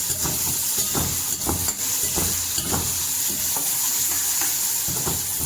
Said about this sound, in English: And we'll be roasting this onions.